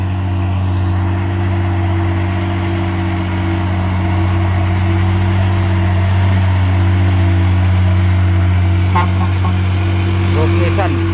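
A Nissan truck drives along a steep hill road, its engine a steady, fairly loud droning hum that holds throughout with little change in pitch, close by and continuous.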